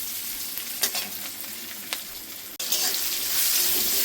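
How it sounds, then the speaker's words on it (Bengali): Onions sizzling in a pan with mustard seeds, dried chilli, asafoetida and curry leaves, a close steady fry punctuated by a couple of stirring knocks, then a brief drop before the hiss returns louder. "পেঁয়াজটাকে ভেজে নেব"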